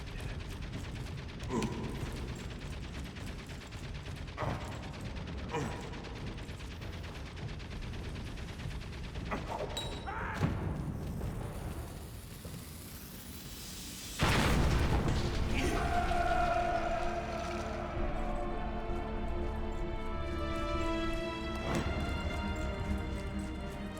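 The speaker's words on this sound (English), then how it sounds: "Grenade." A grenade goes off in a chaotic video game firefight, a sudden loud blast around the midpoint that jumps the level and leaves a dense, sustained roar with scattered mechanical clatter and gunfire-like bangs.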